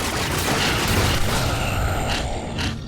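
Turret gunfire in Halo: The Master Chief Collection, a dense, continuous barrage of shots and booms that stays loud throughout with no talking.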